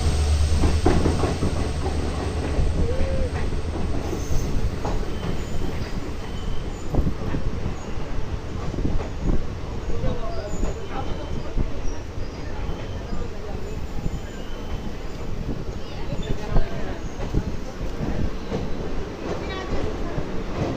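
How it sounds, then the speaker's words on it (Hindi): The Uttaranchal Sampark Kranti Express on its Kathgodam–Delhi run rolls into Rudrapur City station with a continuous close rumble and wheel clatter that stays loud and steady for the full stretch. "train is arriving at Rudrapur city"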